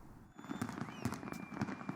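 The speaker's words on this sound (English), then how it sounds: "Fireworks lit up the night sky as revelers cheered and danced to the beats." Fireworks burst at a nighttime celebration during the Middle East Music Festival in Riyadh, with rising whistles and repeated booming cracks layered over a steady crowd rumble.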